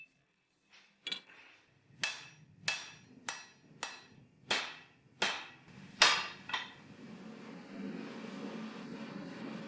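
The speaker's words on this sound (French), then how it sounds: "je pouvais commencer à forger la lame directement à partir du barreau" A hammer forges a steel sword blade straight from a bar stock, nine or so sharp, ringing metal strikes at a steady pace, close and loud, followed by a low rumble of background noise.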